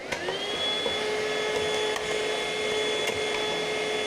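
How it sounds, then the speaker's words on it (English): Vacuum cleaner running under a bed to clear dust in an apartment, a steady loud whine and roar that rises briefly at the start, then holds an even pitch. "I'm gonna need the vacuum cleaner."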